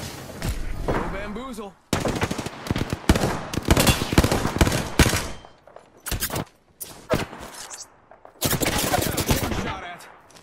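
Apex Legends shootout: loud, rapid automatic gunfire and shotgun blasts come in dense bursts separated by brief gaps, with in-game voice callouts in between.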